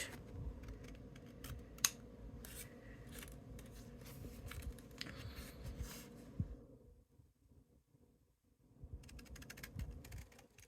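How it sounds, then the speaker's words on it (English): Scissors cut card paper along a green template for a tower pinwheel card, with quiet, close snipping and rustling that stop for a moment before resuming. "And using that as my guide to cut. Making sure I don't cut that top piece."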